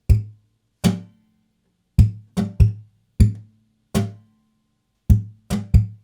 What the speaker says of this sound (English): So it's similar to the layer 2, but we're adding a bass tap now.